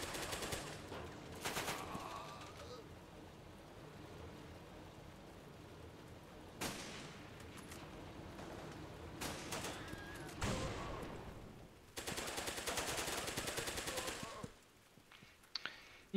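Gunfire in the Running With Rifles war video game: bursts of rapid automatic shots and single cracks come in irregular clusters, some loud and close, others more distant, over a steady background hiss.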